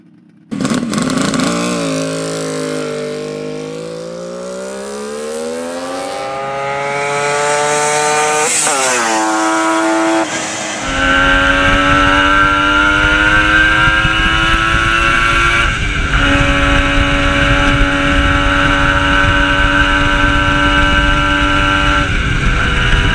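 A two-stroke motorcycle engine cranks over, catches and settles into a loud, crackling idle, then revs up in a rising sweep before running steadily close by, with no talk.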